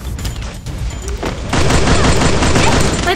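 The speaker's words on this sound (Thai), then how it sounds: "เฮ้ยตัวนี้ยิงเรา" Enemy gunfire in a video game: scattered shots at first, then a loud, sustained rattling volley filling the second half, close and dense.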